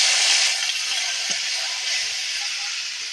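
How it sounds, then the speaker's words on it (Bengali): Chopped tomato hitting hot oil already holding fried chilli, cardamom, cinnamon, cloves and whole cumin gives a steady, loud, close hiss of sizzling that runs unbroken the whole time, with no voices. "ভাজা ভাজা করে নিয়েছি এবার এর মধ্যে টমাটম কুচি দিয়ে দেবো"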